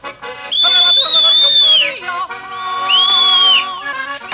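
A girl whistles a tune in the Alpine mountains, two long clear sustained whistled phrases with a short break between, loud and close over soft background music.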